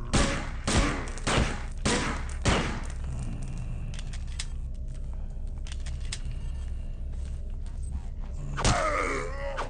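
Several loud, rapid shotgun blasts from a zombie hybrid enemy in the video game System Shock 2, followed by a low rumbling ambience and one more blast near the end.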